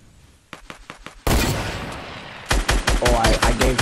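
Rapid gunfire in a first-person shooter game: a few quick clipped shots, then a loud burst of noise, then a fast rattling volley of repeated shots, all close and with no talking.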